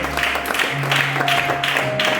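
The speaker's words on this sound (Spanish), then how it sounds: "Fuerte el aplauso para nuestro Dios" A church congregation applauds, a dense, continuous wash of many hands clapping together at a fairly loud level, with a faint sustained tone running underneath.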